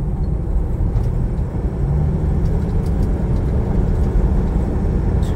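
An automatic-transmission car whose gearbox has run 500,000 km without an oil change is driving, with a continuous, loud, even engine and road rumble and no voices.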